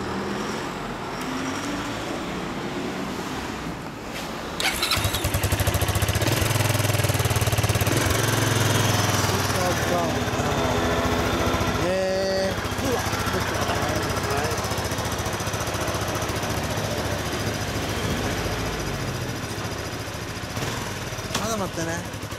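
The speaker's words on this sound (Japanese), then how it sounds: "このエンジン音聞かせてもらえますか？" A Kawasaki Estrella 250 motorcycle engine idles with a steady low throb, growing louder midway and holding a rough, continuous rumble, with faint voices and street noise around it.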